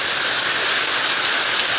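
Heavy summer downpour during a storm, a dense steady hiss of rain falling hard and close, continuous and unbroken with no pauses.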